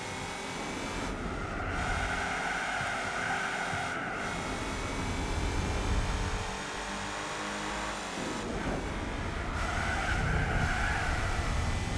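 Race cars in Gran Turismo 4 roar continuously as one overtakes another, a loud, sustained engine drone with whining gear changes and brief tire squeal, heard alone without talk.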